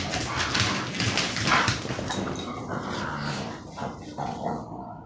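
A playful dog whimpers and gives short barks up close, the whines and yelps coming in quick irregular bursts with some rustling movement.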